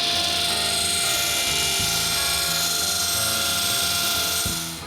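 A power tool cutting notches into a wooden bookcase runs with a loud, continuous high whine and a pulsing low drone, steady throughout before easing off at the end.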